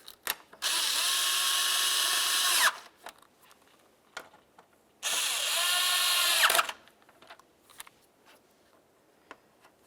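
A power tool tightens radiator fan bolts on a 2012-2017 Toyota Camry in two loud, close, high-pitched whirring bursts of about two seconds each, with scattered clicks and knocks between them.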